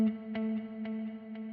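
An electric guitar played through a Line 6 Helix Heliosphere delay with reverb rings out as a sustained chord, with faint repeating plucks echoing at a steady pulse into a smooth wash.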